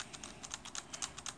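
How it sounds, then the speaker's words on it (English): Typing on an IBM ThinkPad T60 laptop keyboard with a classic layout and squishy keys, a faint, fast, even patter of soft key clicks with no voices. "So this is sort of the classic old school ThinkPad keyboard layout."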